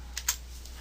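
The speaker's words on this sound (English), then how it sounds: "they'll go ahead and type docx" A few quick keystrokes on a computer keyboard, two soft clicks close together over a steady low hum, no speech.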